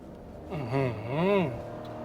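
A Nissan Kicks e-Power driven hard in sport mode on a track, its engine swelling in two rising-and-falling revs, heard close from inside the cabin.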